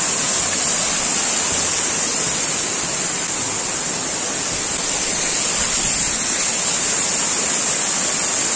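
Steady, loud roar of the Ilomski waterfall, a cascade about seven to eight metres high cut into rock in a forest, pouring continuously with a bright hiss and no voices.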